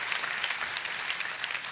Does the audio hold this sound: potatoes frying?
no